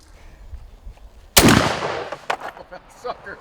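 A shotgun fires a single 3.5-inch TSS turkey load, number 5.67 shot, 2 ounces, outdoors at 20 yards: one loud, sharp close blast with a rolling echo trailing away, and faint voices before the shot.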